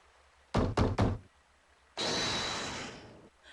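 Three quick, loud knocks strike a tavern door in the game Professor Layton vs Phoenix Wright, followed by a longer rushing burst of noise that slowly fades.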